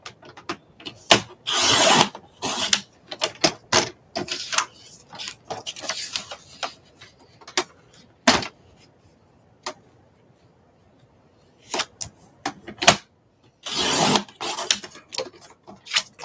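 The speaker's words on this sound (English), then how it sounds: "I'm just going to continue cutting these cut aparts out." A paper cutter slices apart cut-apart cards at a crafting table in short, scraping mechanical bursts. The bursts come in uneven clusters separated by quiet pauses and sound fairly close.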